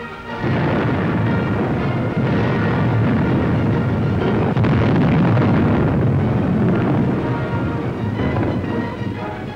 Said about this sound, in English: Unter dem zusammengefassten Feuer der schweren Infanteriewaffen und Artillerie wird der Widerstand gebrochen.